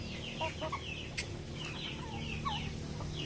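Chickens and roosters kept in a backyard flock clucking and calling in scattered bursts over a steady low hum, fairly close and continuous, with no talking.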